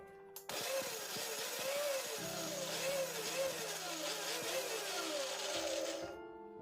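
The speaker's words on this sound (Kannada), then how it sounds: "ಅಷ್ಟರಲ್ಲಿ ನಾವು ಸಾಸಿವೆ, ಮೆಂತ್ಯ ಏನು ಹುರ್ಕೊಂಡಿದ್ದೀವಿ ತರಿಯಾಗಿ ಪುಡಿ ಮಾಡ್ಕೊಳ್ಳೋಣ" A mixer grinder runs in a steady whirring burst, coarsely powdering roasted mustard and fenugreek seeds, close and loud with pulsing pitch as the blades churn, starting abruptly and cutting off near the end.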